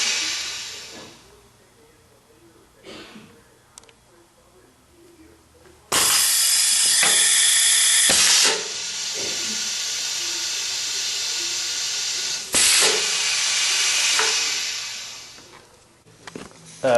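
A single-cylinder Geyer Fillmaster 5000 filling machine lets out two loud, sustained hissing bursts of air, separated by quieter stretches with faint mechanical clicks.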